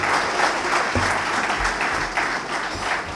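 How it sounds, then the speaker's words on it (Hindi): An audience at a business seminar in Mumbai claps throughout, a dense and steady burst of applause with no one speaking over it. "तो पहले उनके लिए हम तालियां बजाएंगे सर।"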